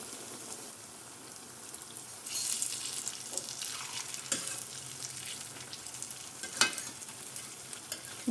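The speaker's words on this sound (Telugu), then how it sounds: "లో ఫ్లేమ్లో వేయించుకుంటే ఏంటంటే చక్కగా గోల్డెన్ బ్రౌన్ కలర్లా వచ్చే వరకు ఫ్రై అవుతాయి అన్నమాట" Ginger garelu, lentil fritters, deep fry in oil over a low flame with a gentle bubbling sizzle that swells after a couple of seconds, plus occasional clicks and scrapes from turning them, no one talking.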